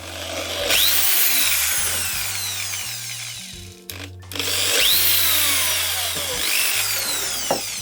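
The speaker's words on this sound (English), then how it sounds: "now what I'm going to do is drill through with a 3mm drill bit" Two bursts of drilling through wood with a 3mm drill bit while building a router table, a high whine with a falling pitch sweep, a brief pause between them, close and loud.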